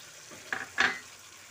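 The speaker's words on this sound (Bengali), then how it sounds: "এবার একটু মশলাটা কষিয়ে নিতে হবে।" Spice paste with ground cashew and poppy seed fried in a pan for aloo dum, two brief bursts of sizzling scrape a moment apart, close and fairly soft, otherwise quiet.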